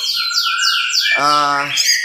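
Oriental magpie-robin (kacer) in song: a run of clear, rapidly repeated descending whistled notes, then a harsher buzzy, harmonic-rich call, close and loud with no talk.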